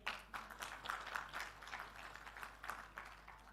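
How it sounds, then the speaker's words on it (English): Faint scattered clapping from an audience at a panel discussion, a light patter of hands rising and falling steadily across a few seconds in a quiet hall. "A big round of applause for him."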